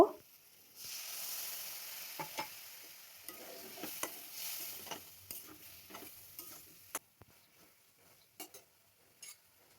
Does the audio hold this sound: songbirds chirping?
no